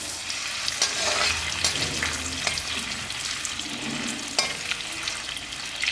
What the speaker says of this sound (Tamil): இதை வந்து அப்படியே சின்ன சின்ன க்யூப்ஸாக இருக்கிறதுனால முழுசாகவே போட்டு அப்படியே நெய்யில் வறுத்து எடுத்துக்கலாம்